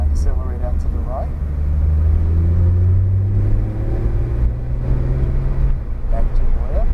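A Porsche accelerates out of a corner on a track, its engine rumbling low and rising in pitch as it builds speed, loud and close from inside the car, while a person talks over it.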